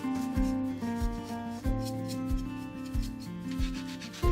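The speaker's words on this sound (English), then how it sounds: "I lightly sand the heart, focusing mainly on the edges." Sandpaper lightly rubs the edges of a painted Dollar Tree heart in soft, repeated strokes, sitting under a louder backing melody.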